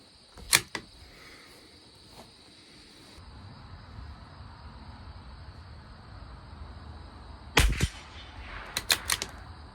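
Sharp cracks from a Tikka T1x rimfire rifle with Federal Gold Medal Target ammunition fire at a 50-yard range. There is one early crack, a louder pair later, then a few quicker smaller snaps, all over a faint outdoor hum.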